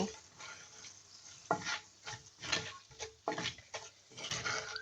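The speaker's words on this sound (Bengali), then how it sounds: "সব গরম মশলা দিয়েছি, এখন হালকা একটু ভেজে নেব।" Whole garam masala spices, including split bay leaves, cloves and black peppercorns, lightly frying in a pan with a soft sizzle and intermittent stirring scrapes, close up and quiet, no talking.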